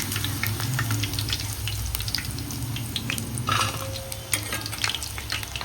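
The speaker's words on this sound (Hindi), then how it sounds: "थोड़ी थोड़ी डाल के तलती मैं" Chicken 65 pieces fry in hot oil in a home kitchen, giving a steady close sizzle with bubbling crackle and occasional clinks of stirring, with no voices.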